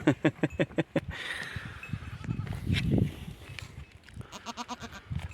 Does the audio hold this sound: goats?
yes